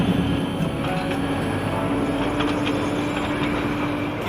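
A train enters Batasia Loop in Darjeeling, producing a steady, fairly loud rolling rumble of wheels and carriages that continues evenly throughout without any talking.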